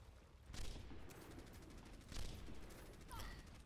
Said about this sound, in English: God damn it, these turrets, they're the worst.